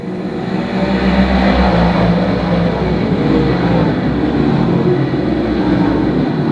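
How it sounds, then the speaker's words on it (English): Modified race car accelerating hard out of turn four at Can-Am Speedway, a loud sustained engine roar that swells after the first second and holds steady, heard from trackside. "Over in turn number 4, waiting for Tim Fuller to pound the throttle"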